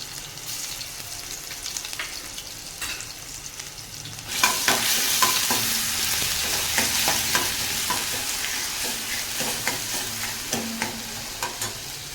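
Garlic paste hits hot oil already holding cumin seeds and ginger-chilli paste, erupting after a few quiet seconds into a loud, steady sizzle with crackles and stirring scrapes that continue to the end.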